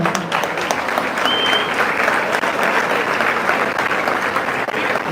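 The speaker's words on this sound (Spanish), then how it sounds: "Le damos un aplauso a la hermana." Applause from a church congregation welcoming a visiting sister, steady dense clapping throughout at a fairly close, even level, with a faint voice briefly audible beneath.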